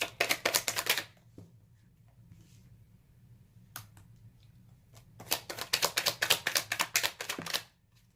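Tarot cards are shuffled in two quick riffling bursts, crisp and close, the second longer, with a faint single flick in the quiet gap between.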